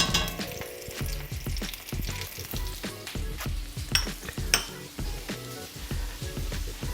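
Butter and olive oil sizzle and fry in a pan with roasting potatoes, a steady crackling hiss broken by repeated scrapes and clinks of a utensil stirring the potatoes against the pan.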